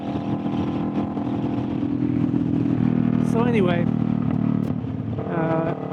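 A Kawasaki Vulcan S motorcycle with a loud aftermarket exhaust runs nearby in a steady, low throbbing idle, with a voice speaking over it briefly.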